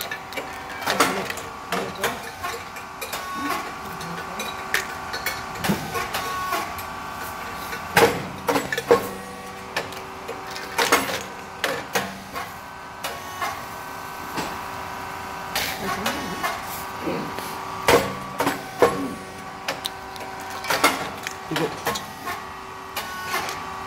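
A SYP4808T rice cake machine making triangle thin flat chips runs with rhythmic mechanical clanks, hisses and sharp pops at regular intervals over a steady motor hum, with some voices in the background.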